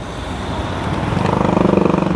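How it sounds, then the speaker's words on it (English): Busy road traffic near the Tower of London, with queuing vehicles heading into central London: a loud, close engine drone that builds into a throbbing, pulsing rumble, no talk heard. "you can hear all of that background noise. Plus you've got all of the traffic queuing to get into central London as well."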